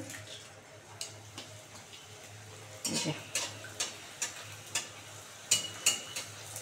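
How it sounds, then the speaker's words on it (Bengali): Sabu (tapioca) luchi fry in hot oil, a soft steady sizzle under repeated sharp ticks and pops, close and fairly quiet, with no talking. "বন্ধুরা তেল গরম হয়ে গেছে, এবারে দিয়ে দিচ্ছি সাবুর লুচি।"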